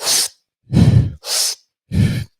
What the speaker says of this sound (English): it requires you to breathe in as much air as you can in a very short amount of time